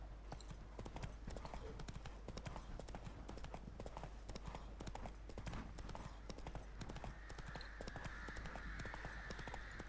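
Roach, the horse in The Witcher 3, gallops with a rapid, rhythmic clip-clop of hooves throughout, steady and fairly close, with a faint tonal ambience rising in the latter half.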